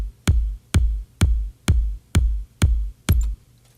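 Three kick drum samples stacked into one layered kick for a dance track: seven heavy, booming thumps at a steady, even pace, each with a sharp attack and a short low tail, loud and close with no talking.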